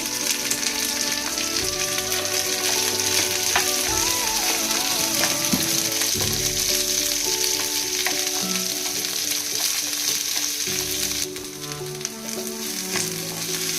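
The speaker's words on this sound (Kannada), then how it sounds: "ಹಾಗೆ ಈರುಳ್ಳಿನ ಹಾಕ್ಕೊಂಡು ಚೆನ್ನಾಗಿ ಫ್ರೈ ಮಾಡ್ಕೊಳ್ಳೋಣ ಬೇಯೋ ತನಕ" Onions frying in a pan for a home-style chicken curry, a strong, steady sizzle and crackle up close with occasional stirring scrapes, running continuously and easing slightly near the end, with no voices.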